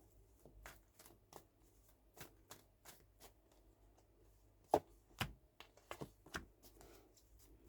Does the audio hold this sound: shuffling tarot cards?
yes